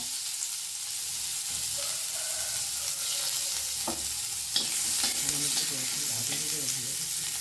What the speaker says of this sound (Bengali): আমি একটা গোটা শুকনো লঙ্কা দিয়ে দিচ্ছি একটু ফাটিয়ে নিয়ে